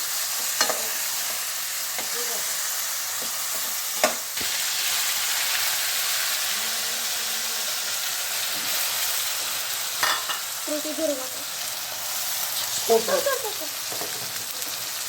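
Mutton tripe (vajdi) fries in a pan with a continuous close sizzle broken by a few sharp knocks and scraping stirs, and no voices are heard.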